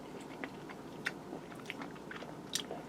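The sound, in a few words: chewing baked pork chop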